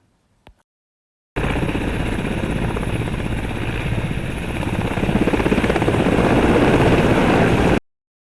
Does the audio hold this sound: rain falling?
no